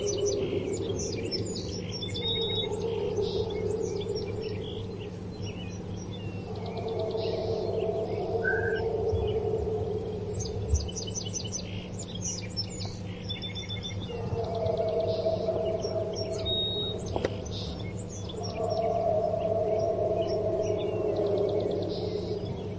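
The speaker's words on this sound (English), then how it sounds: "I hear birds too." Small birds chirp and twitter repeatedly in the distance over a steady low hum, with faint murmurs of background noise throughout.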